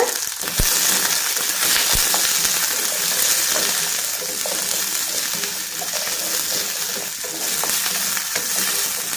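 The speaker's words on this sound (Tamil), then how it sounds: "சேர்த்ததுக்கப்புறமா இப்போ நம்ம இதை கொஞ்ச நேரம் நல்லா வதக்கி விடுங்க" Garlic sautés in hot oil for a curry leaf thokku, a loud, continuous close-up sizzle with a few faint stirring clicks and no pauses.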